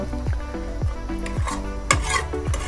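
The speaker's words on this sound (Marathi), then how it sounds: "मस्त उकळी फुटली" Thick black mutton curry boils in a pot, with repeated bubbling plops that come in a steady rhythm close by and one sharper knock of the pot, with no voices.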